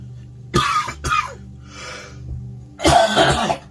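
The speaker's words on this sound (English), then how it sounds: "Coughs." A man coughs several times indoors, two harsh close bursts followed by a softer throat-clearing pause and then a longer, heavier coughing fit.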